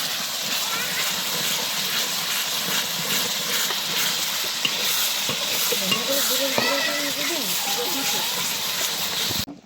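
A ginger, garlic and cumin paste with chili and turmeric fries in hot oil, sizzling loudly and continuously as a utensil stirs it, with speech woven through.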